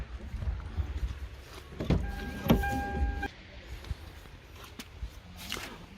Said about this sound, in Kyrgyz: Төрт айна этең авто функциясы менен көтөрүлүп түшүрүлөт.